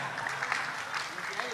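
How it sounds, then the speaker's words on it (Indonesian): An audience applauds in a steady, even patter of many hands at a religious study gathering at the PWNU East Java hall, fairly close and sustained for a moment without a break. "Tepuk tangan untuk beliau"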